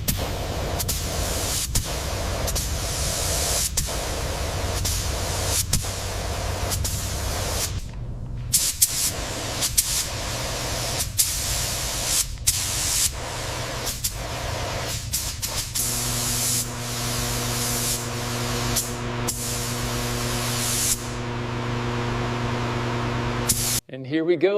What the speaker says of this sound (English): We're just laying down a thick coat of the gray epoxy over the side tanks now.